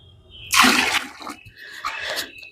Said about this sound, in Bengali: এটা একদম জল দিয়ে যে ভর্তি করে রাখবো